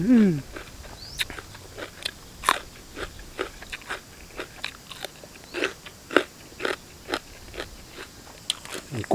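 Sharp crunchy bites and chewing of large apple snails and bitter melon close to the mic, repeated in an irregular rhythm, with a brief voice at the start.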